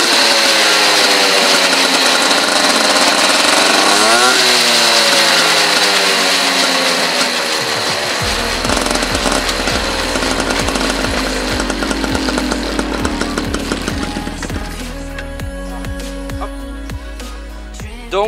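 A small two-stroke engine on an MBK scooter fitted with a new ignition revs loudly and close up, climbing in pitch under the throttle, then drops to a steady buzzing idle with a few more blips.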